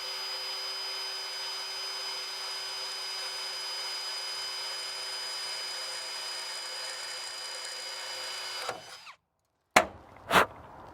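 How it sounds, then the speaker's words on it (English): A power drill with a 1/8 inch bit bores through a GMC Sierra or Chevy Silverado truck bed, a steady close whine lasting about nine seconds, then cutting off and followed by two brief bursts. "Drill all the way through."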